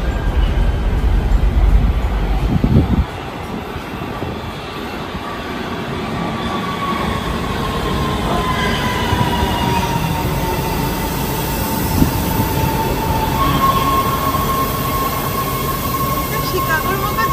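A Los Angeles metro train running, with a heavy rolling rumble, clunks and a long rising and falling wheel squeal, close and continuous, with people talking faintly in the carriage.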